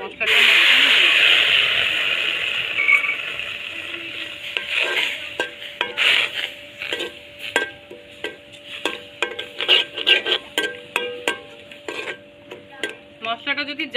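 Spice masala heating in a pan for restaurant-style fried chicken: a loud hiss as water goes in, easing into softer sizzling and a run of quick scraping and tapping strokes from a spoon against the pan.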